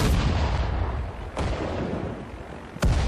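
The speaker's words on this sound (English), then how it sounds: "So mortars have enough range to fire to here too" Continuous roaring battlefield rumble from mortar and artillery fire in the Sudden Strike 4 strategy game, with dense low booms and two sharper blasts standing out.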